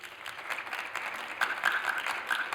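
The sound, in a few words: audience applause for number 2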